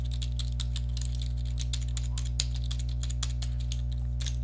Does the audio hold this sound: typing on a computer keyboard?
yes